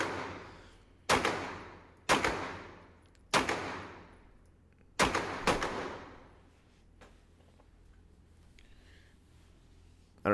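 Five loud gunshots from a CZ P-09 pistol ring out at an outdoor range, spaced about a second apart, each with a long echoing decay, followed by quieter background and a final shot at the end.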